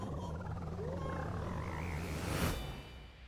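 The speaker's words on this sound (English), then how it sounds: "Frog fart noise." Frog in Super Mario Odyssey making a comic fart-like noise, a low buzzing croak with wobbling tones that ends in a brief louder burst, heard on its own over game background.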